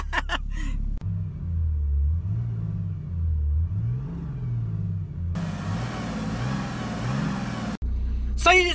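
A car with 537,000 km on it cranks and fires up, then settles into a loud, rumbling idle with a rising rev partway through. The engine runs alone throughout, close and strong.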